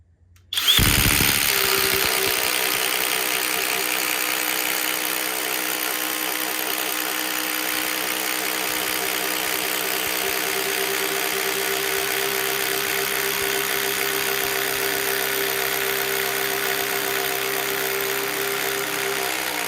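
A Senix impact driver bores through wood with self-drilling speed-bore spade bits, a loud steady high-pitched whine with a constant drive tone that runs unbroken for nearly twenty seconds after a sharp start.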